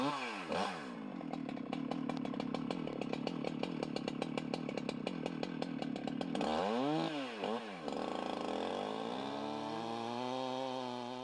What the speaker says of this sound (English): The faller removes any branches that could cause a kickback.